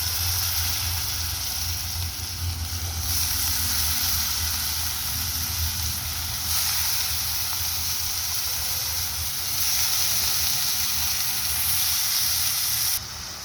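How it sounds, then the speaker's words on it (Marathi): Washed cowpea pods sautéing in a hot pan for a spicy Maharashtrian vegetable dish, a steady loud sizzle and hiss throughout, swelling in a few surges as they are tossed. "आपण ज्या शेंगा धुतलेला आहे ना त्या आपण ॲड करणार"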